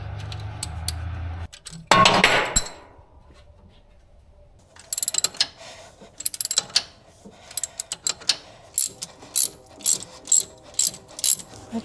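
Ratchet clicking on the fan-belt tensioner pulley of a 1967 Plymouth Fury, first a brief dense burst, then after a pause a run of loud, close, repeated ratcheting strokes in a steady rhythm, alone without talk.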